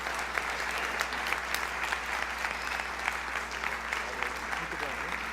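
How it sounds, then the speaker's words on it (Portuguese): A church congregation applauds during a Sunday worship service, steady sustained clapping from many hands filling the room, with a faint voice underneath. "Vamos aplaudir a Deus na vida deles?"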